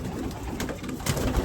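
Racing pigeons coo in a loft, soft low throaty calls close by over a steady background rumble, with a slightly louder burst near the end and no talking.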